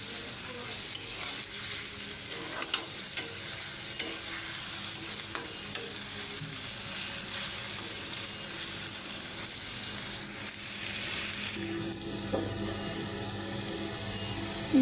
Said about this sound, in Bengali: রসুন দিয়ে আবার একটু নেড়ে ছেড়ে নেব